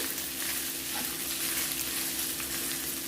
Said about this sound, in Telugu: ఇందులో ఒక మూడు టీ స్పూన్ వరకు పడుతుందండి వేసేసి మొత్తం ఒకసారి కలుపుకోవాలి